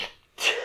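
A single sneeze bursts out close and fairly loud after a short hush, preceded by a fainter breathy sound, in a casual conversation among podcast hosts.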